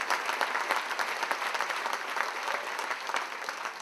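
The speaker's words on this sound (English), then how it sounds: "So give yourselves a big round of applause" Theatre audience at a charity comedy night breaking into a big round of applause, dense continuous clapping from a crowd filling the room, close and lively for the whole stretch.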